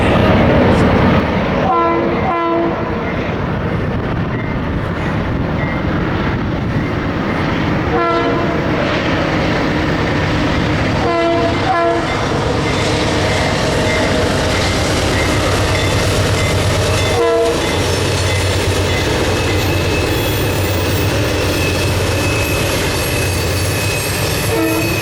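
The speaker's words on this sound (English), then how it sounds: "we caught our first train, being led by NS 8333 and" A Norfolk Southern freight train led by GE C40-8W NS 8333 works around Horseshoe Curve, a loud continuous rumble of locomotives and rolling cars with several short horn blasts early on and wheel clatter throughout.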